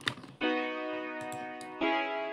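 Realistic 2 piano preset from the Citrus plugin plays a sustained, ringing chord, struck again later and left to sustain, with faint ticking alongside.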